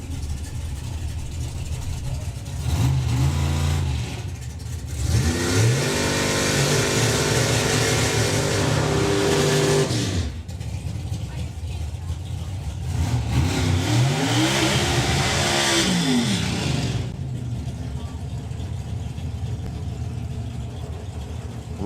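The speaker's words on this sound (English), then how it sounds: "Big wheels up launch there for Dan, as you would expect." Drag racing cars at a summer nationals event launch and roar down the strip in two separate runs, each a loud engine blast rising in pitch as it accelerates and then fading into the distance.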